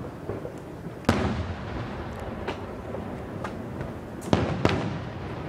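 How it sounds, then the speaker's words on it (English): Fourth of July fireworks bursting at a distance, several sharp cracks and booms scattered over a steady rumbling background, a few louder pops standing out among fainter ones. "People launch some weird fireworks these days."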